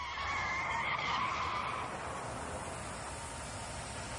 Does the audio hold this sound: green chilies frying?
no